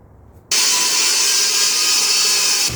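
A power saw rips through wooden stock being milled into gunwales for a small cruising dinghy build. It starts abruptly and runs as a loud, steady, high-pitched whine without pause, and no one speaks.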